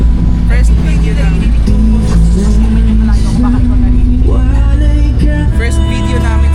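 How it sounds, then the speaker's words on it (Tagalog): Inside a jeep riding on a road, a heavy engine rumble and road noise run continuously, with the engine pitch rising and falling as it shifts and accelerates, while people talk over it. "First video namin sa jeep."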